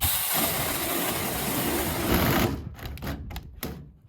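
A battery-powered mini chainsaw running on a Makita-compatible 18V battery cuts through wood with a steady, loud buzzing whine, then stops after a couple of seconds, leaving a few short bursts and rattles as the cut finishes.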